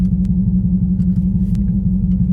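A 305 hp Subaru WRX STI accelerating hard from a standstill in second gear for a 0 to 60 run on the street: a loud, steady, deep engine rumble heard from inside, with a few faint clicks over the top.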